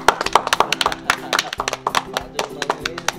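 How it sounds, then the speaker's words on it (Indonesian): Applause for Pak Cunong, a PSIM Jogja kitman, at a small gathering: a short burst of several people clapping unevenly and close by, with a few louder claps standing out and voices mixed in. "tepuk tangan dulu ini"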